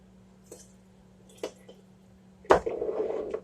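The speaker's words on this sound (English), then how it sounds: "Slosh it around." Water sloshes inside a glass jar being rinsed in a kitchen: a few faint knocks first, then a sharp clunk and a steady swirling wash of liquid to the end.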